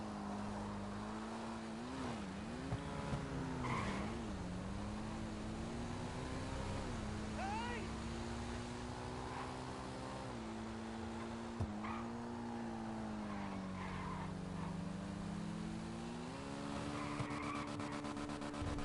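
A Sanchez dirt bike engine in a video game drones steadily, its pitch rising and dipping as the bike revs and wheelies, with sustained engine whine and a few sharp clicks.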